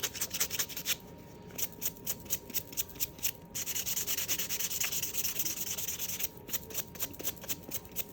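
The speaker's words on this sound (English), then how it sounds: "You want to buff in all angles." Continuous rapid rubbing of a nail buffer across a fingernail during a manicure, close and steady, with short back-and-forth strokes and brief pauses throughout.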